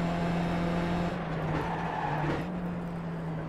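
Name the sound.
race car engine and tyre skid in iRacing video game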